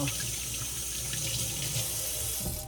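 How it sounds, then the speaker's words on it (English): Water runs steadily from a tap into a sink while gloves are rinsed under it, a close, continuous splash with no talking. "I'm rinsing these gloves again"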